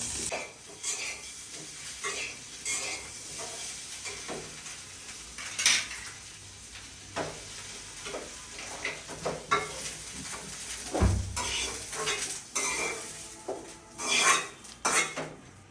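Potatoes fry in a pan in a home kitchen, with a spatula scraping and clanking against the metal as they are stirred. The clatter comes in uneven bursts over a faint sizzle, close by, with no one talking.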